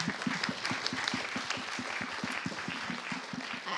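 Crowd applause at an indoor networking event for women in energy, a close, even clatter of many hands that stays at a steady level from start to finish.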